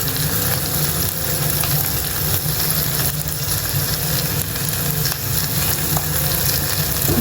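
Sliced onions sautéing in a hot pan for crab roast, a loud continuous close sizzle and crackle filling the whole stretch with no voices over it.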